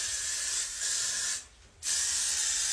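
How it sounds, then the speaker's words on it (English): Hairspray sprayed onto styled short hair, a close continuous aerosol hiss with a brief pause in the middle before spraying resumes, with no talking. "I'm just going to finish it off with some hairspray."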